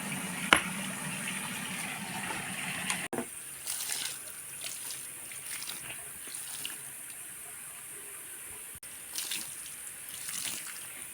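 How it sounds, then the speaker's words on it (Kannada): Water poured onto clay soil to mix mud for building a clay stove, a soft close splashing and trickling with a few louder gushes scattered through, and no voices. "ಮಣ್ಣಿಗೆ ಈ ಥರ ನೀರು ಹಾಕಿ"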